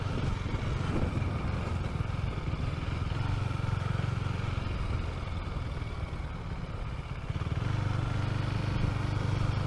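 A Husqvarna Svartpilen motorcycle rolls slowly in second gear on rough off-road ground in a city, its engine a steady low rumble with loose clatter, dipping briefly before settling back to an even drone.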